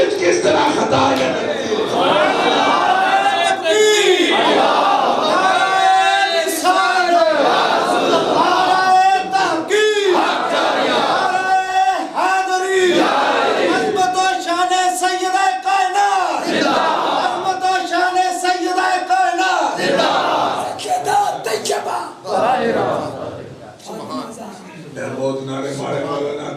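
A crowd at a religious gathering chants slogans in loud, rhythmic bursts of massed voices, rising and falling in waves close by.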